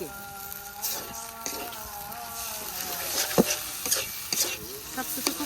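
Fried small shrimp being stirred together with potato and eggplant mash in a pan, a spatula scraping and clacking in uneven strokes over a soft steady sizzle, close and moderately loud.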